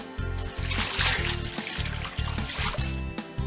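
Splashing, trickling bath water pours and sloshes steadily for a few seconds, set against a repeating low musical beat.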